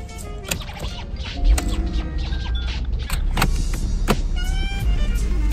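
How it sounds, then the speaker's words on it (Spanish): A Porsche convertible roof opens with an electric motor whirring steadily under a car's cabin ambience, dotted with sharp mechanical clicks and latch clacks as the top moves, heard close up without talking. "Pero vámonos en convertible, ¿no?"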